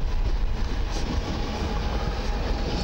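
A Koleje Mazowieckie EN76 electric airport train bound for Modlin rolls through Warszawa Zachodnia station, a loud, steady rumble of wheels and motors passing close by with no talk.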